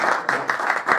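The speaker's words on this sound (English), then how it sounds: "Please don't clap, this is mosque" Brief burst of audience clapping inside a mosque during a question-and-answer session, a short, fairly loud patter of hands that cuts off quickly.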